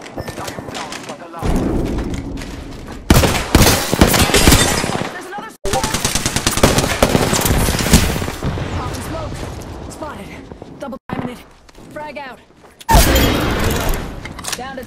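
Sustained bursts of automatic gunfire and heavy booms in the Apex Legends video game, loud and close, with brief pauses between volleys and game voice lines heard over the shooting.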